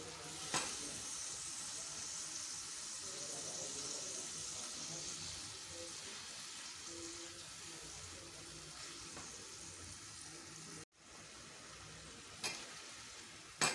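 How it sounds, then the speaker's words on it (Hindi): Mutton keema and tomatoes frying in a karahi, giving a steady, even sizzle that carries on throughout with a few faint clicks of stirring. "अच्छी तरह से भुनाई करें।"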